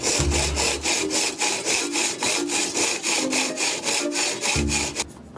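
A hand saw cuts the end off a piece of wood with a steady, close back-and-forth rasping rhythm of roughly a dozen strokes, each stroke brightly audible. A few low thumps appear near the start and the end.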